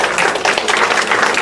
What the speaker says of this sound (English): Let's give Mike a nice round of applause